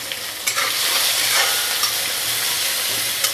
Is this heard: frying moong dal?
yes